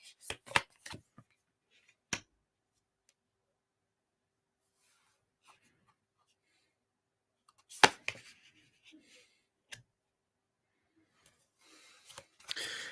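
Tarot or oracle reading cards being shuffled and flicked, giving sharp papery riffles and snaps in scattered bursts, with a few quiet gaps between them, close and fairly crisp.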